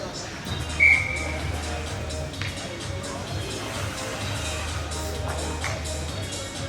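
A referee's whistle gives one short sharp blast at a junior ice hockey game, heard over steady rink and crowd ambience with a low hum and scattered taps.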